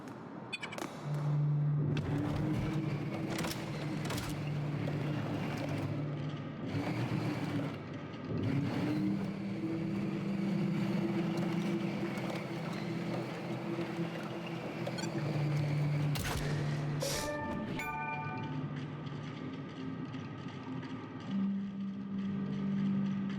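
A vehicle is driven in the video game Caravan SandWitch, its engine holding a steady low drone that rises and falls in pitch, with scattered clunks and bumps over it and a change of tone near the end.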